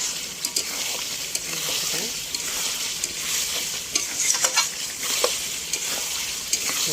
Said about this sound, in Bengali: দেখো মাংস মাংসটা কীভাবে ভাজতেছিলাম